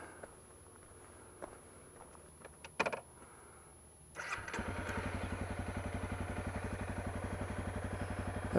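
A Honda CRF250L dual-sport motorcycle engine starts after a few quiet clicks and clunks, then settles into a loud, steady, rhythmic idle and running thump up close.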